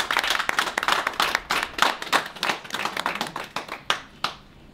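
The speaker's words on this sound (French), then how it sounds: "que je vais demander d'applaudir" An audience claps at a gathering of a political party, with sharp individual claps in a quick, uneven patter that grows sparser and fades out after about four seconds.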